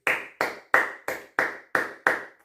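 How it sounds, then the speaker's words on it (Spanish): A person claps their hands seven times in a steady, even rhythm, each clap sharp, close and distinct, with no talking around them. "El personaje está aplaudiendo, yo veo, ya está aplaudiendo, continúa aplaudiendo hasta el último momento"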